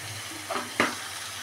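A tomato-based masala spice paste, sweetened with a little sugar, fries slowly in a pan for chicken bharta, giving a steady low sizzle broken by two brief scraping stirs.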